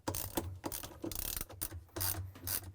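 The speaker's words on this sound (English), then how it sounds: "I'm going to use the 10mm socket wrench." Rapid bursts of ratchet clicks from a 10mm socket wrench tightening the bolts on an LG/Kenmore washer's balance weight. Close and crisp, with short pauses between strokes.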